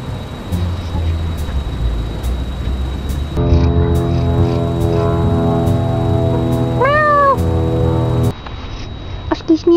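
A cat meows once, a short rising-falling cry, over a steady low engine-like drone, with a person's voice faintly around it.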